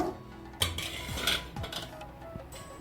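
A wok-style frying pan is set down with a metallic clank amid several clinks of pots and utensils in a home kitchen while making minnal keerai chutney, close and fairly loud, no voices.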